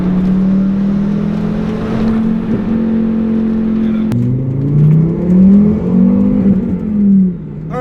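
A 2004 Volvo S60 R engine pulls hard under acceleration, its loud, steady drone climbing in pitch, easing briefly, then surging again through a shift, close and with no talking.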